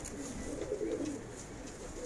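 A stray Turkish flying pigeon coos softly nearby, a short low murmuring call over quiet outdoor background.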